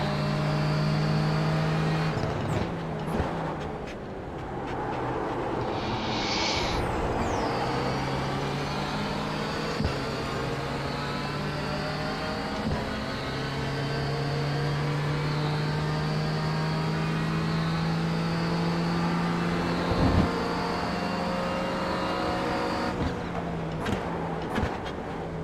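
A Renault Clio production race car in iRacing at Daytona Road Course, its engine droning steadily at high revs through long pulls, with sharp gear shifts and brief lifts breaking the loud, continuous note.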